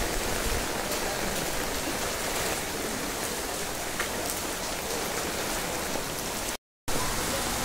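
Steady, heavy rain pours down outdoors with strong wind, a dense continuous hiss close to the microphone that fills the whole stretch, broken only by one brief dropout near the end.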